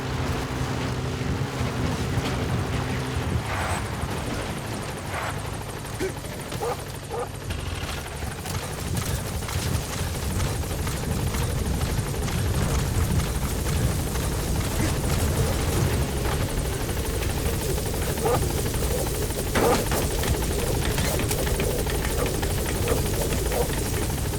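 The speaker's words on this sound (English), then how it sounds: "Support helicopter has arrived." A support helicopter in Metal Gear Solid V: The Phantom Pain gives a steady rotor thrum and whine throughout, constant and fairly loud with a broad rushing background.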